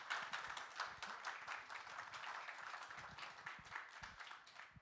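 Audience applause closing a conference panel at the Cannes 2025 festival, a fairly faint, steady patter of many hands clapping at a distance for about five seconds, with no voices over it.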